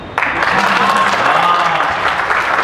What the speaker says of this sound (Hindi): आप यहां अपनी तालियां नहीं रोक पाएंगे